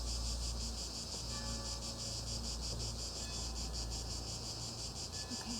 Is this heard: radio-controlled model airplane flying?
no